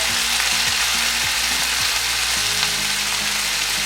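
Tomatoes, onions and bell peppers sizzle steadily in a pan for a quick breakfast, a loud, continuous frying hiss with no talking.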